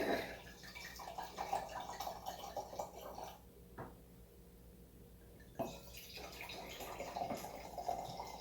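Wine poured into a glass during a tasting, a close trickling, splashing liquid stream that runs steadily, breaks off briefly, then resumes.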